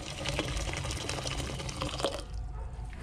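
Hot boiled water broth pours into a cooking pot with a continuous close splashing gush that thins toward a softer trickle at the end.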